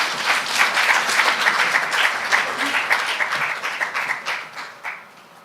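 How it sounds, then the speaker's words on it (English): Audience applause at a closing ceremony of a public-private partnership forum in Rwanda, a dense, sustained round of clapping from a crowd that thins and fades out toward the end. "Another round of applause to our guest of honor for the closing ceremony."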